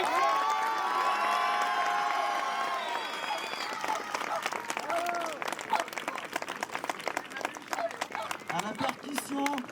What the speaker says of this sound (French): On applaudit bien fort pour eux,